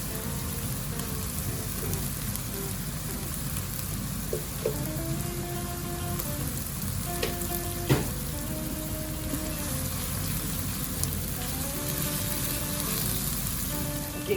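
Green curry paste sizzles and crackles steadily in hot oil in a pan, with occasional scrapes and clinks from stirring heard alone.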